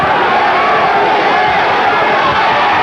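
A boxing crowd in Maryville roars steadily during a hard-fought sixth round between Joey Ruiz and Harold Brazier, a loud, dense wash of cheering and shouting without a break.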